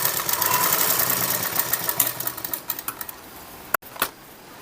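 Sewing machine stitching bias strips together for blouse neck piping, a fast loud mechanical whirr that breaks into short pulses, stops briefly, then gives a final quick burst, with no talk.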